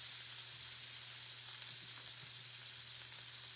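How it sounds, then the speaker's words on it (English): Onions sautéing in a pan with butter and a drop of oil, a steady close sizzle holding evenly throughout with no talking. "You're just going to get those onions nicely sauteed."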